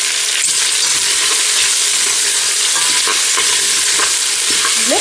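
Meatballs browning in olive oil sizzle steadily and loudly, with a constant frying hiss and occasional scraping stirs throughout, no voices.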